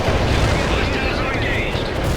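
Enemy fire explodes around units in the World in Conflict war game, a short, loud stretch of continuous booms and crackling blasts, with a voice shouting over the roar.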